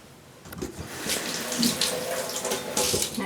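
Tap water runs steadily into a sink to rinse off after shaving the underarms with a safety razor, a close, even splashing hiss with small shifts as the water is used.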